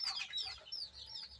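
Baby chickens kept in a cage on a rooftop farm in winter give a continuous stream of high, close peeping and soft clucks, overlapping chirps with no voices.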